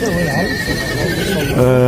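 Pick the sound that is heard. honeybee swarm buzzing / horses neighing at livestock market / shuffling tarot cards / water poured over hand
horses neighing at livestock market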